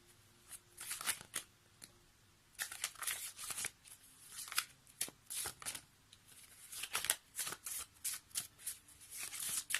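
A deck of oracle cards is shuffled close by in repeated quick riffling bursts with short pauses between them, with no one speaking.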